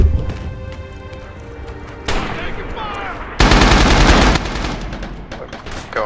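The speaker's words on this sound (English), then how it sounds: "Getting shot at, dude." Dense gunfire in the World War II shooter Rising Storm: rapid machine-gun bursts and rifle shots, some near and loud, others more distant, with thuds, a louder close volley midway and faint voices underneath.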